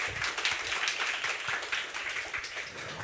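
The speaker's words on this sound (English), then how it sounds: "Can we please give a warm round of applause for our speakers today" An audience at a public debate gives the speakers a warm round of applause, a moderate, fairly even patter of many hands clapping with a few louder individual claps, heard at some distance in a hall.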